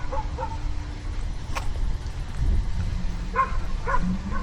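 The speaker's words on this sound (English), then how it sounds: "they'd still be barking loud" Dogs barking along a street on a walk in Dallas, sharp yips and barks in short bursts, fairly distant, over steady outdoor background noise.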